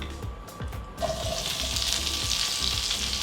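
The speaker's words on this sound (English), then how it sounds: "We're going to brown these onions for a few minutes" Onions browning in butter in a pan for beef bourguignon, a quiet clatter that gives way to a sudden, steady bright sizzle, close by with no voices.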